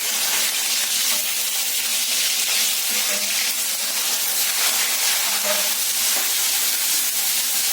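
Chopped tomatoes sizzling in a hot pan for egg beresta, a steady loud hiss and frying crackle that carries on evenly throughout, close up with no talk.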